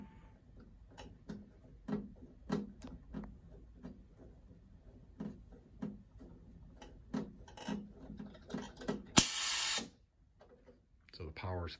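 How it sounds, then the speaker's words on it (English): A double-acting pneumatic air cylinder on an SMC electro-pneumatic regulator setup retracts after a power cut, releasing a short, sharp burst of air hiss after a series of light ticks and rubbing noises, with speech nearby. "The solenoid valve is de-energized, cylinder retracts, ITV still holding pressure."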